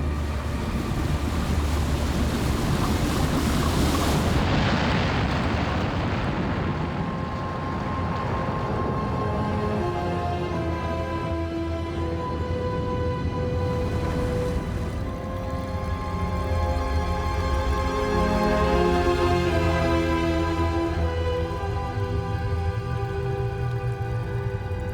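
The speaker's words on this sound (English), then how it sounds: "wave, 100 kilometers long, surges through the streets for hours before it begins to ebb." A giant tsunami wave surging through city streets, heard as a continuous heavy roar of rushing water and wind-like turbulence that swells and persists throughout, loud and close.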